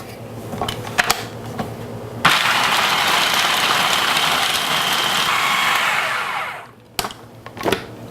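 A blender grinding pitted dates with vanilla for a raw cashew cheesecake crust runs as one steady, loud motor whir for several seconds, then stops, with a few clicks and knocks before and after.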